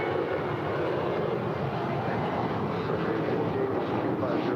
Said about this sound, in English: That is United 1737 departing to Austin. It's a 737-800.